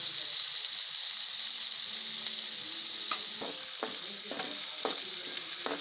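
Onions fry in a pan for masala avalakki, a soft, even hiss of sizzling oil close by, punctuated by occasional spoon scrapes and stirring clicks.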